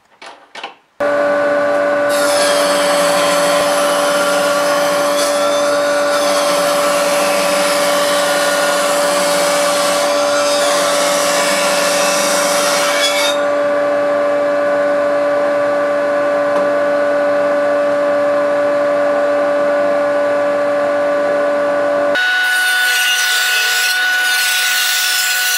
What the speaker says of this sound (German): Im zweiten Schritt habe ich einen Falz an die Kanten der beiden Teile geschnitten.